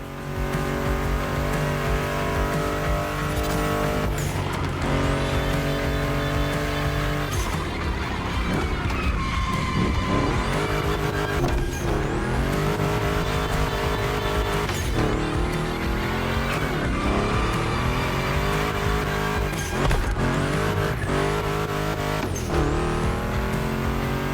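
Ford Mustang GT muscle car in The Crew Motorfest racing hard, its engine roaring loud and continuous through repeated gear shifts, with rising revs, brief tire squeals and skids on the turns.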